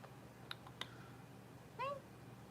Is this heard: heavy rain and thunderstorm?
no